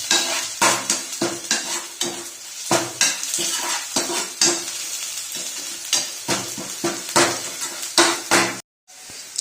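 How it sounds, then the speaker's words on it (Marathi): Onions being sautéed in a pan for a banana-peel vegetable dish, with repeated loud scraping and clanking of a spoon against the pan in an uneven stirring rhythm over a steady background sizzle. "आता मी कांदा वगैरे मस्त परतून घेत आहे"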